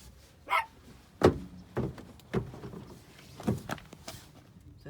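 A dog named Imogene barks in a string of short, sharp sounds, about eight spread over several seconds, fairly close with uneven loudness.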